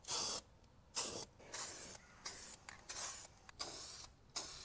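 A warmed spray paint can lays a second coat on an aluminum Toro Super Recycler mower deck, with repeated short hissing sprays separated by brief pauses, close and clear.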